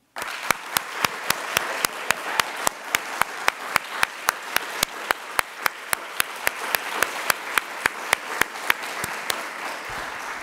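An audience applauds a third-year student named as the winner of a university MLK award, the 2024 Swanson Award; dense, even applause fills about ten seconds, with sharp individual claps standing out at a steady, regular beat.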